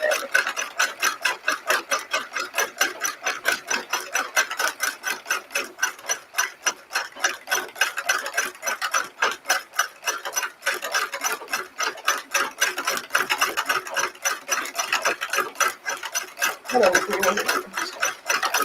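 Embroidery sewing machine stitching flowers, a fast, even stream of mechanical ticks and clatter running steadily throughout, close and clear, with a brief slowdown near the end.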